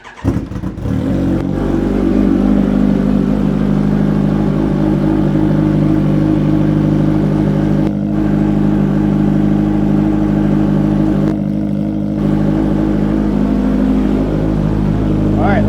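A 2019 Kawasaki Ninja H2 motorcycle engine runs at a steady, loud idle after starting, a continuous mid-pitched drone with a couple of brief dips, heard close up while a voice talks over it.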